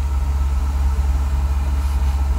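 A Mercedes 600SL runs with its engine idling, a steady low exhaust rumble with a deep pulsing throb close by, even and unbroken throughout.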